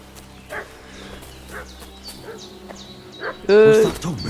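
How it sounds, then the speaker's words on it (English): Dog barking in the medieval open-world video game Kingdom Come: Deliverance II, a few short sharp barks scattered over quiet ambient game sound, ending in a louder harsh burst that could be a vocal or animal cry. "What's that dog making such a fuss about?"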